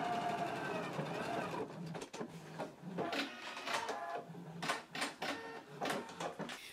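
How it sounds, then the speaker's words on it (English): Bursts of sewing machine stitching run a 5/8 inch seam on a dress facing, loud and close, starting and stopping several times in quick rhythmic runs. "Now I'm going to take it to the machine and stitch in a 5/8 of an inch seam allowance."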